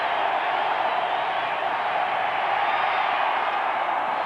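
A packed stadium crowd roars steadily at a 1985 NFL game, 49ers at Broncos in Denver, during a third-and-ten play; a dense, continuous wall of cheering noise holds at even loudness throughout, with no single voices standing out.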